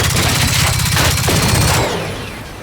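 The Kapus experimental gun in Generation Zero, overdrive switched on, fires a rapid, steady stream of loud, closely spaced shots that stops abruptly and leaves a fading ringing tail.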